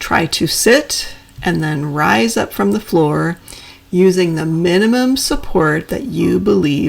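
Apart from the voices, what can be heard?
No everyday noise stands out behind the speech.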